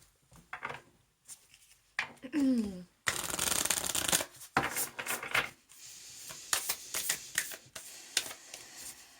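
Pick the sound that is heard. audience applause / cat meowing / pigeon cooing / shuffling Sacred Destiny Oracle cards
shuffling Sacred Destiny Oracle cards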